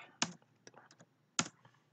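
A few keys typed on a computer keyboard while working in an Excel spreadsheet: two sharp close clicks with lighter taps between them, in a quiet room.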